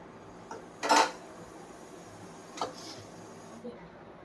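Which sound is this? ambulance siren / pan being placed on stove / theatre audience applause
pan being placed on stove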